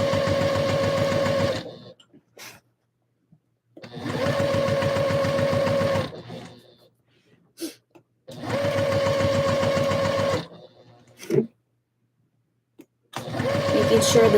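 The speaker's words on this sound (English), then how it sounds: "Making sure everything's out of the way, and sew." Sewing machine stitching a ruffled skirt, running in steady mechanical bursts of about two to four seconds, separated by short pauses with faint handling noises.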